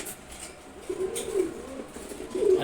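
Pigeons of a vegetable-coloured breed cooing softly nearby in a low, rolling murmur that swells and fades over a couple of seconds, with a faint hiss behind.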